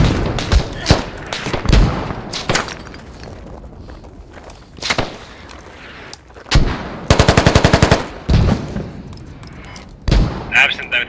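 Machine gun fire in the video game Squad rings out in short bursts and single shots, one rapid sustained burst in the middle, loud and close, with distant booms and footsteps between.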